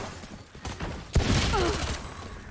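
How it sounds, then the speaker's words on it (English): Video game gunfire as agents Neon and Reyna exchange fire, one with a Spectre, in a few bursts: scattered shots early, then a loud sharp crack followed by sustained rattling fire and faint ringing tones. "Neon and Reyna have an exchanging gunfire"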